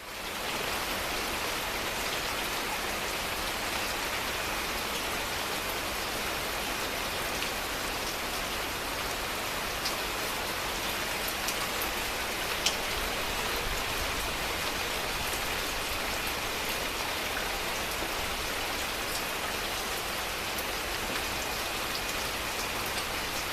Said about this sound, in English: And now what we need is some rain.